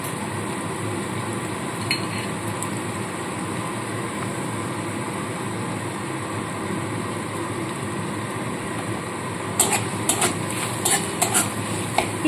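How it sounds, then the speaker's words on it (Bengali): Chopped onions sizzling and frying in a pan with garam masala, stirred steadily with a utensil, a continuous loud hiss with occasional sharp clinks of metal near the end. "এবার কুচনো পেঁয়াজগুলো এর মধ্যে দিয়ে দিচ্ছি।"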